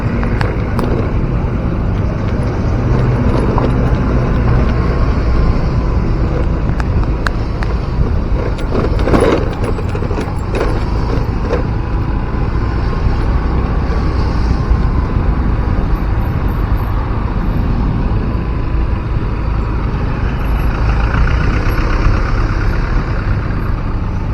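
Heavy jammed traffic on the Padang–Bukittinggi road in West Sumatra, Indonesia, near a collapsed bridge toward the airport: a loud, unbroken rumble of idling and creeping car and truck engines fills the whole stretch with no pauses.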